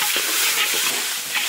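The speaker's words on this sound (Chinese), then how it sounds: "把鸡肉煸着玩" Chicken stir-fried in a large iron wok, a dense loud sizzle with a few scraping stirs of the spatula against the metal, close up and without talk.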